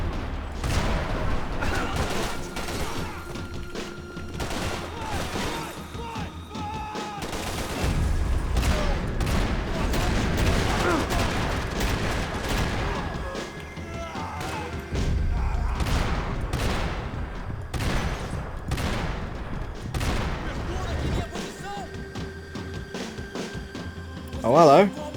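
A Max Payne 3 shootout plays out in repeated bursts of gunfire and booms across a long stretch, some volleys close and loud, others sparser, while someone talks over the fighting.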